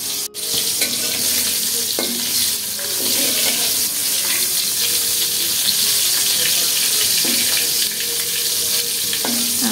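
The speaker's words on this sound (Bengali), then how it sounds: "আমাদের তিনজনের জন্য 3 পিস ইলিশ মাছ ভেজে নিচ্ছি" Three pieces of hilsa fish frying in hot oil in a home kitchen, giving a loud, steady crackling sizzle that runs throughout, with occasional clinks of utensils.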